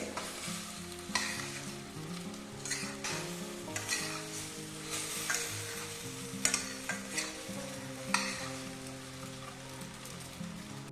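Pasta being stirred and mixed in a hot pan, a steady sizzle under repeated scraping and clinking strokes of the spoon, close and fairly loud, with background music running throughout.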